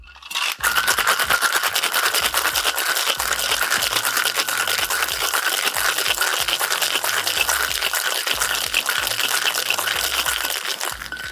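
A coffee cocktail rattles hard in a shaker, a fast, steady run of clattering ice beats that starts abruptly and keeps going loud and close for about ten seconds, with no voices.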